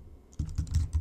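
Computer keyboard keys tapped in a quick, uneven run of clicks, close and fairly quiet, as a domain name is typed in for setup.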